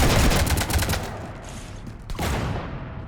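Sustained automatic gunfire strafing a ship in Mass Effect, a dense rattling volley that fades out midway before a second, shorter burst returns near the end; no voices.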